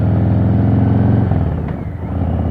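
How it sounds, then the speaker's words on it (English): Motorcycle fitted with Cobra Neighbor Hater pipes, steady loud low exhaust rumble while riding, easing slightly partway through, with no talking. "The exhaust sounds really good."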